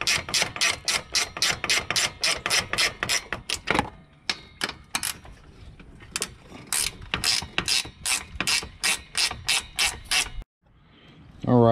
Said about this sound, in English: I'm going to use a ratcheting wrench